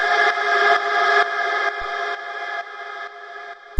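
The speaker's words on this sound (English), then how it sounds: "And yeah, then we have this little effects atmosphere, which sounds like this." Atmospheric cosmic techno effect built from a processed vocal sample, a bright sustained tonal drone that steps down in level across repeated segments and fades toward the end.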